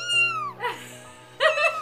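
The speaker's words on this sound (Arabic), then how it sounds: "هي بسة صغيرة لونها بيضة" A small white cat gives two short, high meows close by, the first a falling cry and the second a brief, brighter call, with quiet room tone between them.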